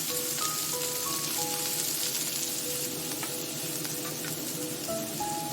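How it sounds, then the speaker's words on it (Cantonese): Spices and scallion whites stir-fry in a hot clay pot, giving a steady, close, even sizzle and crackle throughout with no talking. "爆炒緊香料嘅同時呢"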